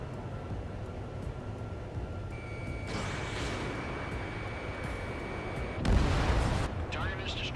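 Anti-aircraft fire aimed at radar vehicles in the video game Ace Combat 7, a dense, continuous battle roar with a sharper burst of heavy fire near the end, mixed with radio voices.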